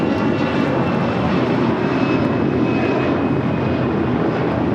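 An American Airlines Airbus A321 departs LAX with a steady, loud roar of jet engines filling the scene, broadband and sustained throughout, with a faint high whine riding over it and no voices.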